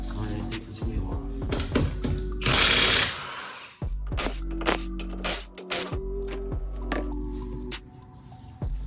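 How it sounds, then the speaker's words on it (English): At close range, a power tool removes the lug nuts from a Scion FR-S wheel in short rattling bursts of impact hammering, with gaps between bursts and a brief louder hiss partway through. "I'm going to take this wheel off."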